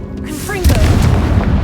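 A Confringo blasting spell goes off in Hogwarts Legacy with a rising magical whistle that ends in a deep, loud boom and a rumbling tail.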